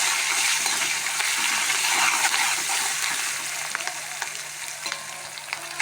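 Green chillies and curry leaves frying in hot oil, giving a loud, dense, continuous sizzle with small crackles that eases slightly toward the end.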